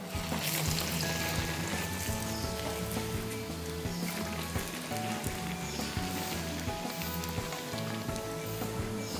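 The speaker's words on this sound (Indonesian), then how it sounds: "Kita akan coba yang digoreng ya." Chocolate cheese bread dough frying in hot oil, a steady dense sizzle and crackle that stays loud and continuous throughout with no talking.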